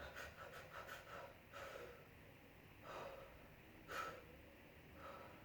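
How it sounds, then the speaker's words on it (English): A person breathing audibly near the microphone, a quick series of short panting breaths followed by slower, deeper inhales and exhales, each breath a soft airy puff. "or breathing fast and slow."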